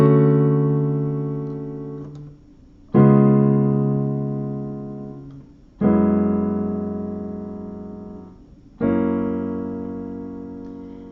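Piano playing the chords of a song in an easy beginner arrangement; four sustained block chords struck one after another about three seconds apart, each ringing and slowly decaying, played alone without talk.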